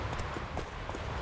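Horse hooves clip-clop in The Witcher 3, a quick run of soft hoof strikes set against a continuous bed of game ambience and noise.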